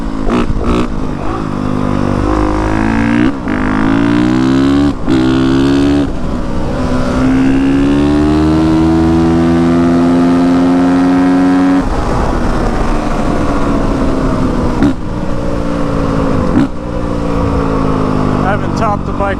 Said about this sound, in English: I haven't topped the bike out in a long time, actually.